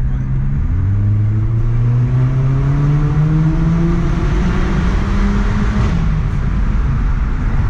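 A tuned Citroën C4 accelerates hard out of a bend, its engine note climbing steadily and loudly from close by with no voices.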